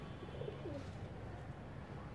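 Round-headed pigeons in a loft cooing faintly, a couple of soft low coos over a quiet background hum.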